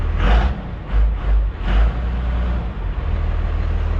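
A 12-valve diesel truck fitted with a new turbo revs up loud and close in three short bursts over the first two seconds, then settles back to a deep, rumbling idle.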